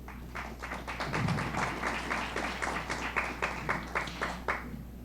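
Sparse audience applause at a science event in a hall, a couple dozen distinct claps in an uneven rhythm over a steady low hum, fairly faint and heard alone.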